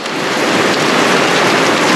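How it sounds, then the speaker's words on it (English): Steady, loud rain pouring down outdoors on a rainy day, a dense continuous hiss of drops hitting surfaces with no pauses or voices. "Raining today"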